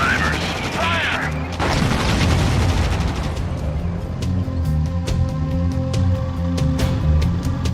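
Gunfire and explosions in the zombie-driving game Zombie Driver, a loud opening burst and boom followed by steady, evenly spaced rapid shots over a droning engine and game noise, with someone talking over it.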